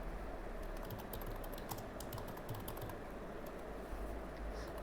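Steady close typing on a computer keyboard, with rapid uneven key clicks over a faint hiss and no speech.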